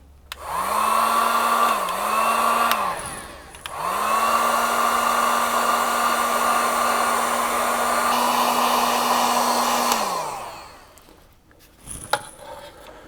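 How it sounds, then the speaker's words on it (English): A heat gun blows steadily on heat shrink tubing over Jeep TJ taillight wiring, a loud whining airflow that runs for about two seconds, cuts briefly, then runs again for roughly six seconds before winding down, with faint clinks afterward. "I'll grab the heat gun. We'll go ahead and hit this, get that heat shrink sealed up on there"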